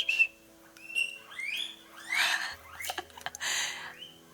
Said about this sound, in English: I'm sorry for whistling into the camera